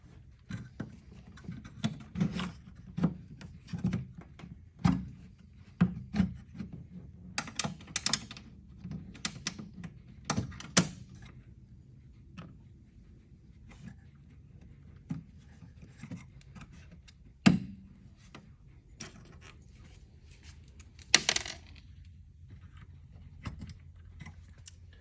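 Small hardware being fitted on a hospital bed actuator: plastic IGUS bushings slid onto the shaft and cotter pins pushed in, giving scattered light clicks, taps and rubbing knocks at close range, with no talking.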